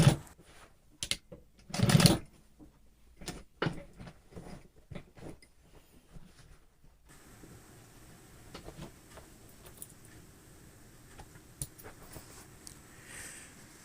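A sewing machine topstitching the side seam of a pair of jeans, running in short, uneven bursts of rapid stitching with pauses between, close and fairly loud at first, then a quieter stretch with faint mechanical ticks.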